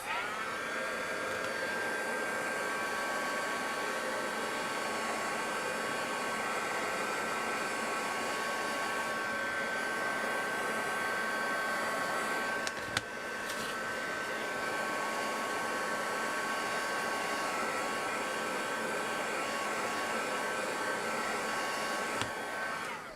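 A handheld dryer blows hot air over acrylic crackle medium on a mixed-media paper tag, giving a loud, unbroken whir with a steady high whine that runs throughout, broken only by a brief dip midway.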